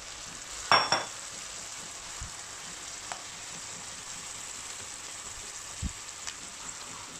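Boiled chickpeas tipped into a pot with soaked basmati rice, a quick loud clatter and sizzle, then scattered stirring scrapes over a faint steady frying hiss.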